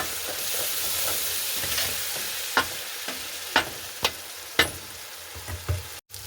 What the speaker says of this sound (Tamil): இதோட அதையும் சேர்த்து வடிவாக கிளறி விடுவோம்